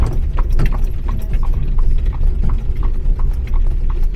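A horse pulling an Amish buggy clops along in a steady, even rhythm, loud and close, with light rattling from the buggy underneath.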